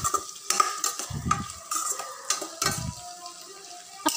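Onions and green chillies being sautéed in a pan, with a spoon stirring and scraping against the metal in repeated bursts over a soft, steady sizzle, close by and with no talking.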